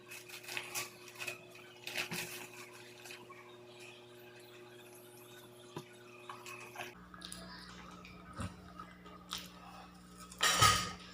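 Pani puri gets eaten up close, with scattered crunchy bites and wet, squishy chewing at low volume, plus a sharper, louder crunch near the end.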